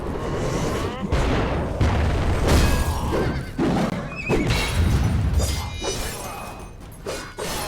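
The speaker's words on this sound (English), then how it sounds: "I'm gonna need to get the hobby horse out." Hobby horse weapon blows in Alice: Madness Returns, heavy repeated thuds and crashes with clanking mechanisms and shattering effects in quick succession, dense and loud throughout.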